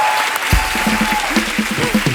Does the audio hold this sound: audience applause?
yes